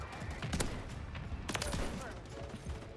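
Shotgun fire in Call of Duty MW3 comes as a few sharp, booming blasts over a busy, noisy game mix, with a couple of the shots standing out clearly and a voice faintly present.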